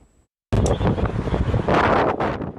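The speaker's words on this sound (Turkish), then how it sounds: "İstanbul'da öğleden sonra hızını arttıran rüzgar hayatı olumsuz etkiliyor" Strong wind in Istanbul roars and buffets the microphone after a short quiet moment, a loud, rumbling, continuous gusting with surging bursts.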